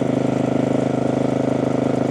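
A Tecumseh small engine runs steadily at about 3,300 RPM during electrical troubleshooting, giving a fast, even putter with a regular pulsing beat, loud and close, with no talk.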